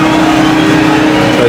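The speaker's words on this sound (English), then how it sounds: "drive over the crushed concrete just to pack it down a bit" A digger drives over crushed concrete to pack it down, its engine a loud, steady close drone with a constant low rumble for the whole brief moment.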